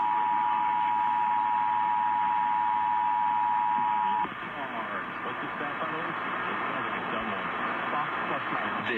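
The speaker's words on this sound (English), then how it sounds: "Oh, double attention tones, huh?" Emergency Alert System double attention tones during a KSFM required monthly test: a loud, steady electronic tone over radio audio holds for about four seconds, then stops and leaves broadcast sound and voices.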